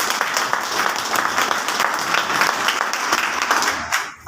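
An audience at a business training session claps steadily and loudly, with dense, sustained applause that ends abruptly near the finish.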